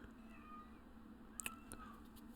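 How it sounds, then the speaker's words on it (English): A female cat in heat moans and groans in drawn-out, quiet yowls, with a couple of brief sharper sounds near the middle, all under steady low background hum. "listen to my cat moan and groan because she is in heat"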